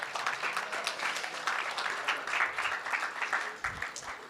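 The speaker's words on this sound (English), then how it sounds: "Another round of applause for all of our panelists throughout the day." A conference audience applauds its panelists at a cannabis industry and policy summit, a steady, fairly distant wash of many hands clapping that holds for several seconds before thinning toward the end.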